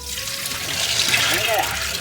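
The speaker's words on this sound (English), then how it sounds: "we're simply just going to drain off that liquid" Soaked beans being drained of their liquid into a colander in a kitchen sink: a steady splashing, trickling pour of water that runs continuously throughout, fairly close and moderately loud.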